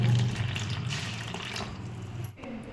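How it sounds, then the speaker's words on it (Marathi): Water pours steadily into flour in a bowl for a few seconds, a continuous close splashing stream that tapers off near the end. "आता हे पाणी यामध्ये घालूया"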